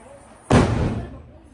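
A single sharp, loud bang bursts suddenly and fades over about half a second, like a firecracker going off nearby during Diwali.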